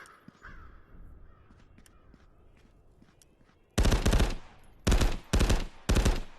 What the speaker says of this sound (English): we're going to stick with the M16 with the burst fire